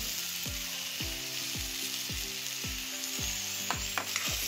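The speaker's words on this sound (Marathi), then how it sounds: "आता ह्या सगळ्या भाज्या आपण छान जरा तेलावर परतून घेऊ." Mixed vegetables, including carrots and flat beans, sizzle steadily in oil for bhogi bhaji, a constant frying hiss with periodic scraping stirs of a spoon against the pan.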